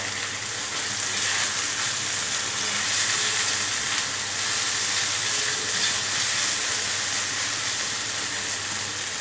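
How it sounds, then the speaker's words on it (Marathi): Tomatoes added to a hot tawa for pav bhaji give off a steady, even sizzle close by, with a continuous hiss and no talking. "त्यामध्ये टमाटर टाकून घ्यायचे।"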